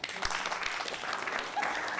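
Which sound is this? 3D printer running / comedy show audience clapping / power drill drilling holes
comedy show audience clapping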